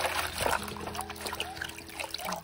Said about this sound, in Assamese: এইখিনি গোটাই গোটাই ধুই লৈছোঁ